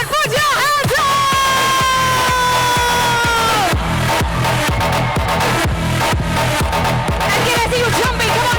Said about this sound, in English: give me the loudest cheer in the world